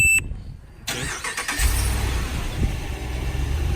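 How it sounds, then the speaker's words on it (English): A truck's engine is started by remote start: a brief electronic chirp, then a cranking burst that catches into a steady idle, close and moderately loud. "I'm gonna go ahead and remote start the truck."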